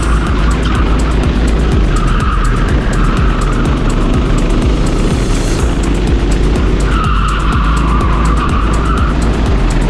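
A novice-class racing go-kart on the Granja Viana track runs at full throttle, its high buzzing engine loud and close throughout, with tire scrub and other karts blending into a continuous roar.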